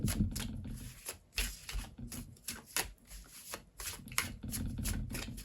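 A stack of Dixit cards being shuffled by hand, quiet close riffling in repeated short bursts with small pauses between them.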